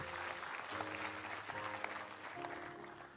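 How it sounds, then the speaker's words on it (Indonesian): Applause from a church congregation, steady and moderately loud, mixed with sustained music tones throughout. "Berikan tepuk tangan untuk Tuhan"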